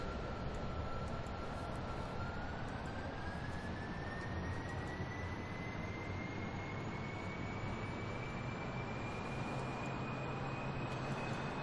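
Spaceplane engines at full throttle during takeoff in Kerbal Space Program, a loud, dense jet roar with a slowly rising whine, steady and continuous for the whole stretch.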